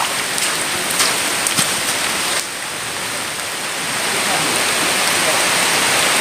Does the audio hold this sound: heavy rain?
yes